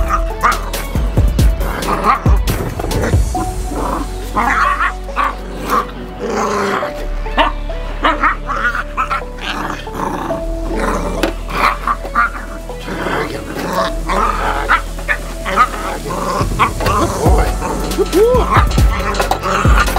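Alto van guard dog barks and snarls aggressively throughout protection training on a box, loud and close, in rapid repeated bursts mixed with growls and yips, with a handler's voice at times.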